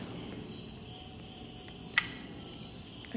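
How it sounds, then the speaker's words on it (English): A constant high-pitched drone of cicadas or crickets chirping at night, thick and unbroken, with a faint brief tap midway and no talking. "cicada things, like those crickets, right?"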